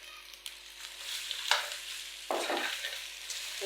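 Mutton frying in cooking oil with a cup of yogurt stirred in, giving a steady close sizzle with scraping stirring strokes that swell around the middle and again toward the end.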